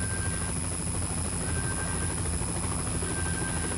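In the video game Cryostasis, a helicopter's rotor pulses rapidly in a steady, unbroken loop over a constant engine whine, loud and close with no voices.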